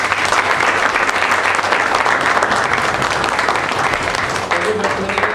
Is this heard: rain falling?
no